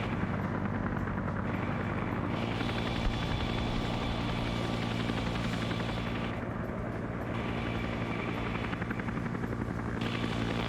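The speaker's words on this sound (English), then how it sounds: "I can't hear you over the helicopters." A video game helicopter drones steadily with a thick rotor thump, close and constant, while intermittent gunfire crackles in the background.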